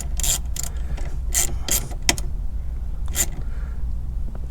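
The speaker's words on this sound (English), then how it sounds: "Little ratchet action here on the old negative." A hand ratchet loosens the nut on the negative terminal of a 2017 Jeep SRT Grand Cherokee battery, giving a close, fast clicking that comes in several short bursts over a steady background hum.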